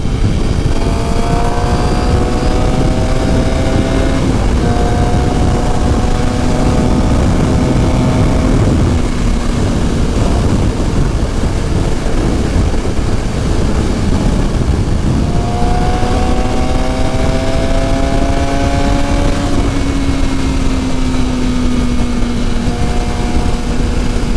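A motorcycle engine drones loud and close on a busy main road, its pitch climbing and falling through gear changes over a constant roar of traffic.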